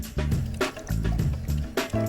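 About 2,500 ml of water is poured into a pot holding seaweed and beef for Korean seaweed soup, a steady splashing fill that comes in bursts and runs alone.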